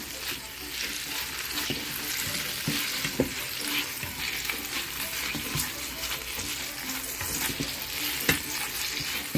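Big sausages fry in a pan with very little oil, sizzling steadily and loudly while a utensil stirs them, scraping and knocking against the pan throughout, with no talking.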